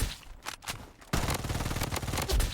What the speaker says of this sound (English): let's use my favorite SMG